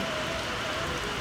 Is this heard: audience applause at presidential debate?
no